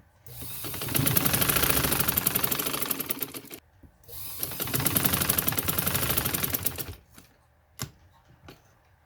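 An electric sewing machine stitches along the lace-trimmed edge of a palazzo: two long, steady runs of fast needle clatter, a short pause between them, then a few isolated thumps as the machine stops.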